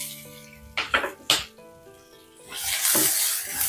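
Chopped onion and green chillies hit a hot pan with a few loud metallic clanks of a spoon against it, then a rising, bright sizzle of frying that swells and holds near and loud.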